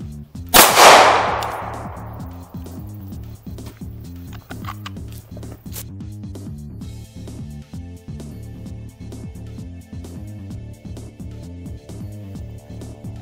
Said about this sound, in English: Guess I can hang it this way and shoot it again.